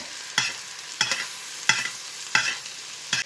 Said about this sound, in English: I'm just going to give it a nice baste.